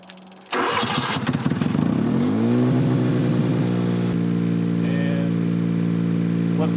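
A homemade mobile robot's bypassed-throttle engine cranks briefly, catches and settles into a steady, loud, close idle hum that runs to the end.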